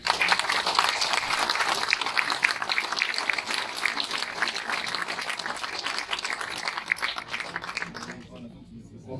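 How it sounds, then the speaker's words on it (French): Audience applause at a company New Year's greetings event, a steady dense wash of many hands clapping that carries on for several seconds before fading, with voices mixed in underneath. "Et on peut les applaudir."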